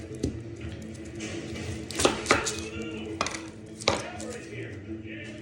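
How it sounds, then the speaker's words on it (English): A knife chops white onion on a board for spicy collard greens, giving several sharp irregular knocks with a few louder hits and some faint clattering between them, close by with a little background noise. "White onion, chop it up."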